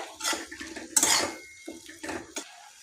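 Raw mango curry in a pan being mixed with a spoon: a few close scraping, clinking strokes of metal against the pan in short bursts, with brief quiet gaps and no talking.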